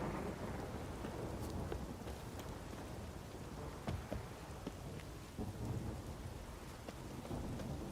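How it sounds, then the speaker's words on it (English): Heavy rain pours steadily in The Witcher video game, with scattered sharp cracks and low rumbles of thunder, a dense, continuous storm with no voices. "And of course I'm facing a terrible downpour."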